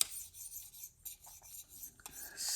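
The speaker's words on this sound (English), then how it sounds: "So these are just some burr reducing strokes here" Light, rasping strokes of a knife blade across a KME sharpener stone, a Spyderco PM2 in S35VN steel, repeated in short back-and-forth passes, close and quiet with no talk.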